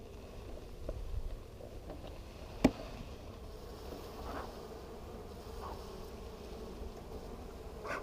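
Bees buzzing softly inside an opened hive with natural comb, a steady faint drone with a few brief sharper buzzes as individual bees pass close.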